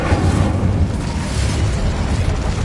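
An Incendio fire spell is cast in Hogwarts Legacy, giving a loud, roaring burst of flame with a deep, rumbling body that holds for a couple of seconds.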